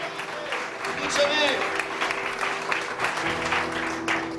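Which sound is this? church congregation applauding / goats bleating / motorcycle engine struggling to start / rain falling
church congregation applauding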